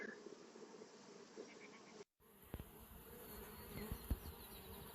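A honey bee swarm relocated to an apiary hums with a dense, continuous buzz, close and fairly faint, broken by a short dropout and a few louder passes of individual bees.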